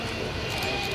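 A radio-controlled scale model B-52 bomber, tail number 699, flies against a blue sky with a steady broadband jet-like rush and a thin whine, with a voice faintly mixed in.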